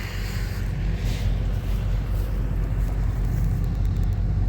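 A combine harvester engine drones loud and close as the machine drives, a steady low rumble with a slight rise in pitch partway through and no pauses.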